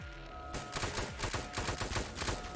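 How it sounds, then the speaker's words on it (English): Steady rapid gunfire rattles in a blocky Roblox-style shooter, a run of sharp repeated shots at an even rhythm lasting the whole moment, fairly close and loud. "why are they shooting at me?"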